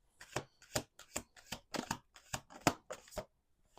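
Tarot cards are shuffled over a table in about a dozen quick crisp riffles, evenly spaced and close, with no voices.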